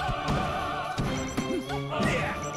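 Forward smash attacks land in a Super Smash Bros singles grand final, sharp impact cracks and thwacks over continuous game music and effects.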